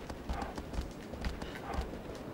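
Horse hooves clip-clop at a steady galloping rhythm in the video game Shadow of the Colossus, a continuous run of close, moderately loud beats with no voices.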